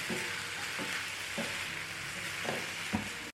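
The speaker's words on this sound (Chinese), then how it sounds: "差不多把葱段加进来，继续开大火快速的翻炒一下" Chicken thighs with scallion pieces stir-fry in a pan over high heat, a loud, constant sizzle broken by a handful of scraping tosses at uneven intervals, with no one speaking.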